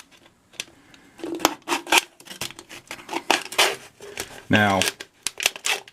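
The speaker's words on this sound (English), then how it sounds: "now we're going to tilt the can back over and we're going to cut it again" Scissors snip through an aluminum beer can in a series of sharp, close clicks and crunches, with a brief metallic scrape near the end and a voice speaking briefly.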